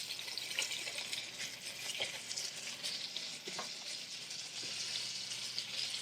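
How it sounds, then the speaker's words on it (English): Seitan frying in a hot pan filled with oil, giving a steady, dense sizzle with scattered pops and crackles throughout, fairly close and continuous with no talking. "put it back into a hot pan filled with oil"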